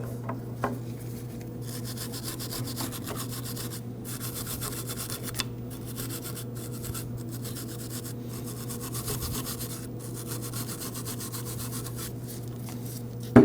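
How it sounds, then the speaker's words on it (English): Mating surfaces under the brake pad shims on a front brake bracket of a 1993-2001 Subaru Impreza are scrubbed clean, a quiet continuous rubbing and scraping in short repeated strokes over a steady low hum, with no talking. "Now we want to clean the mating surfaces underneath where the shims sit."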